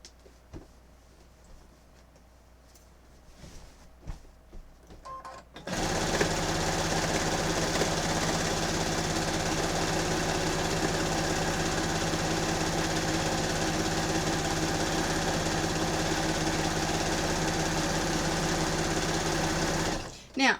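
A sewing machine stitches a quilt, starting after a few quiet seconds of handling and then running fast and steady for about fifteen seconds before stopping.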